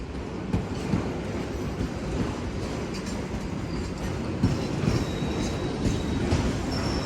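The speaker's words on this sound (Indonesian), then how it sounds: "Tadi pas dibahas di sana sama Mas Nevi, ketemu sama rangkaian Sri Tanjung ya." Sri Tanjung passenger train passing in Surabaya, a loud, steady rumble of railcars rolling by with wheel clatter and occasional metallic squeals, heard up close throughout.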